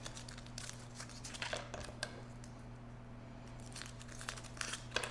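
Foil wrappers on Andes mint candies crinkle and rustle close up, in short irregular bursts of crumpling as several pieces are unwrapped in a quiet kitchen.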